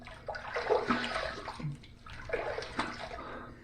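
Safety razor with a stainless steel handle and Charcoal Goods Toothsome plate rinsed under running tap water, a quiet, close splashing and gurgling stream with brief swishes as the blade is moved through the flow.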